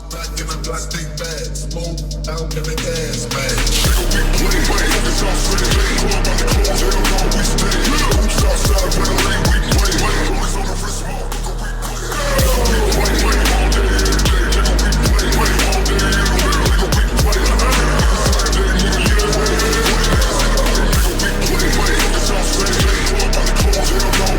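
Loud, constant road rumble fills a Citroën C3's cabin at 90 km/h, with thumps and rattles from the road surface throughout.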